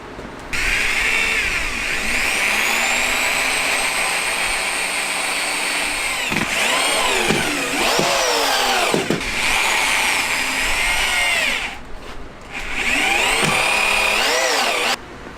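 A power drill drives screws to fasten legs onto a workbench top, with long, loud, close whirring runs that dip and stutter as each screw seats, separated by short pauses.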